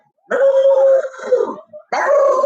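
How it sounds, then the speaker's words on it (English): A dog howls in two long, wavering, drawn-out calls separated by a brief pause, loud and close with no other sound. "can you imagine having a dog all night just howling?"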